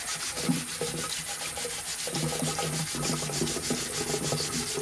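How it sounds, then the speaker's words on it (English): A wet Berkey water filter element is scrubbed by hand, a close rhythmic rubbing and scraping in repeated strokes, steady and fairly quiet with no voices. "I'm scrubbing a little bit more on this bottom than I will on the top half"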